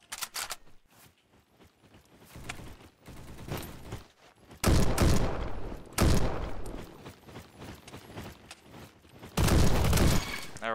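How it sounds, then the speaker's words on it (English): Machine gun fire in the Roblox game Bad Business comes in loud rattling bursts of rapid shots, separated by quieter gaps holding softer clicks and handling noises. "A machine gun with a sniper scope"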